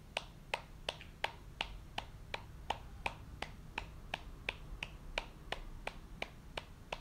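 Sharp hand claps repeat at a steady, even pace of roughly two per second, crisp and fairly close over a quiet low hum.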